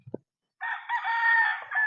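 A rooster crows once, loud and close, in a long ringing call that follows a brief short cluck.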